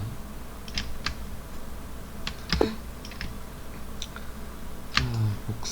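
Computer keyboard keys pressed in short separate clicks and small clusters, close and fairly quiet against a soft background hiss.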